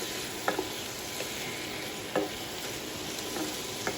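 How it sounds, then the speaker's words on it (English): Chicken pilau with bell peppers being stirred in a pot, giving a few soft, brief scrapes and clinks of the spoon over a steady low sizzle, fairly quiet and without talk. "Let me give it a stir around like this."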